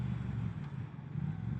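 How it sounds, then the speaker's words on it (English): A Triumph Thruxton 1200 motorcycle engine running steadily while being ridden, a low, even drone heard up close with a fairly quiet, smooth tone and no talking. "It's a little bit better sound when you get a little bit more RPM"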